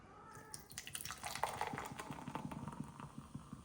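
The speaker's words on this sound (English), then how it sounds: "Oh no, I forgot I'm pouring beer, aren't I? Look at the head on that." Beer pours into a glass at a home dinner table, a close, soft gurgling and splashing stream with bubbly fizz rising as the head forms, heard alone.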